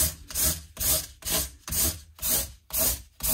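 Frets on a Fender Mexican-made Stratocaster being sanded with 400 grit sandpaper: steady back-and-forth rubbing strokes, about seven in even rhythm, close and fairly loud with no talking.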